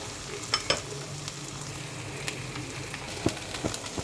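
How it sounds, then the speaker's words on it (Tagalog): Cabbage and other vegetables frying in a pan give a steady soft sizzle, with a few brief stirring clatters scattered through it and no talk. "Fry na natin ang vegetables, guys. Ayan, cabbage."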